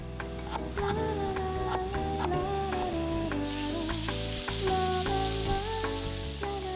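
Chopped, well-fermented chonggak radish stir-frying with assorted seasonings in a restaurant kitchen, a steady sizzle and stirring under prominent background music that plays throughout.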